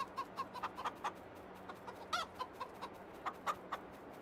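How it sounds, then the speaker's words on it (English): A rooster and hens cluck in Farming Simulator 22 on a Bavarian Forest farm. Short, close clucks come in an uneven rhythm, with a louder rooster call near the middle over a steady low hum, and no one speaks. "Goes like a rooster, doesn't he?"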